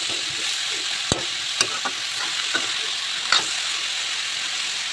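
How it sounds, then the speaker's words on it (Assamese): Chopped water spinach being stirred with ginger and garlic in a hot pan: steady close sizzle broken by several sharp scraping clinks of the spatula, no voices. "এতিয়া পানীলাওখিনি ভালদৰে মিক্স কৰি ল'ম আটাইখিনি একেলগে আদা নহৰুৰ লগত"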